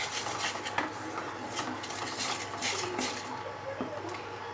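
Spices, Kashmiri chili powder and salt being mixed into a jackfruit curry in a pan: quiet, continuous scraping and rubbing of a utensil against the pan, with soft clinks scattered throughout.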